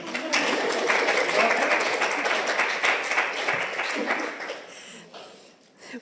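An audience at a social procurement summit claps together in a full, even burst of applause that holds for several seconds, then thins out and fades to scattered quiet claps near the end.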